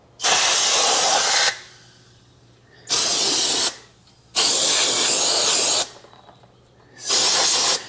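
Loud steamy hissing comes in four long surges separated by quiet pauses, brake cleaner sizzling off hot front brakes of a 2021 Ram 2500, close by.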